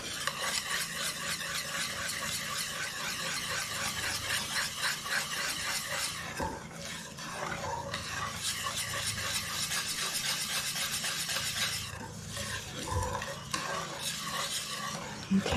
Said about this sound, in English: I'm going to add this pumpkin mixture to the flour in a bigger bowl. And it's coming together.